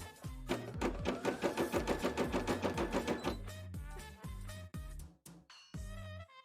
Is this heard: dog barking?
no